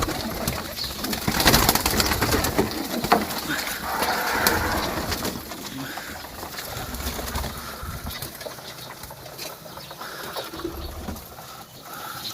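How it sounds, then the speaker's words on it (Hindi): Racing pigeons cooing close by as they feed from trays of home-mixed grain, low murmuring calls running steadily under light pecking and shuffling. "आप देख सकते सारे कबूतर इनको खाने लग गए"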